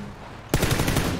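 Automatic gunfire in a first-person shooter video game bursts in suddenly after a quiet half second, a rapid loud string of close shots continuing to the end.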